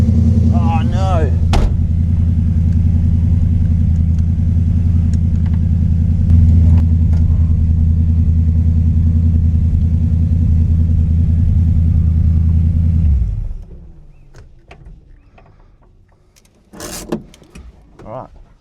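A hardtop Valiant car on its first drive in years, engine rumbling loud and steady up close for about thirteen seconds, then cutting off, leaving quieter handling and clunks.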